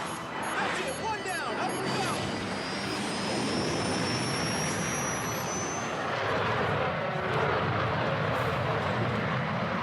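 A Rafale fighter jet's engine roars as a loud, continuous broadband rush with a thin rising whine on top, steady and close throughout.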